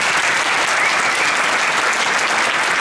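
Audience applause for a high school jazz band at a pops and jazz concert, a thick, continuous wash of clapping from a full room, steady and loud with no voices.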